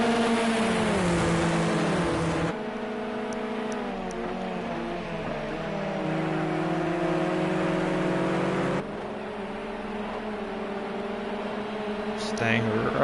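X-Series race cars roar down a straight in Austria, a loud engine note holding steady and then shifting as one car sits in another's slipstream, with a commentator talking over it throughout.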